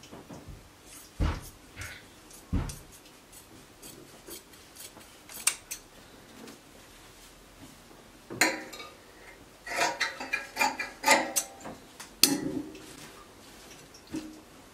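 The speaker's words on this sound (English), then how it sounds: "So I will go ahead and cut it out." Scissors cut fabric pieces for a circle dress with a flutter sleeve, giving irregular bursts of crisp snipping, louder toward the end, with quiet handling sounds between the cuts.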